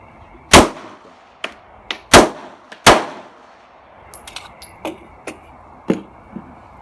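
An Avidity Arms PD10 pistol fires several loud, sharp shots spaced a second or so apart, followed by fainter metallic clinks and lighter impacts.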